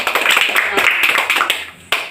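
Classroom applause from students after a lesson on vowels and consonants: brief scattered hand claps under a teacher's voice, ending with a sharp final burst.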